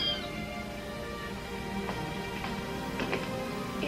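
Several newborn kittens, four in all, mew in a barn at night, their thin cries rising over a steady low background hum and close at hand.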